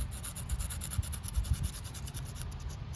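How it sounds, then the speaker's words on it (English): A knife blade scraping resin fuzz and curly shavings from a tree, a close, steady rasping with repeated short strokes in an even rhythm. "you can take your knife and you can just scrape"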